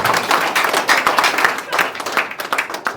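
Audience applause at a stage event in Bujumbura, a dense, continuous clatter of many hands clapping close by, swelling and easing in uneven waves with a few voices mixed in.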